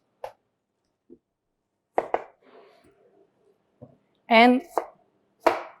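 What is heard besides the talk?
knife chopping onions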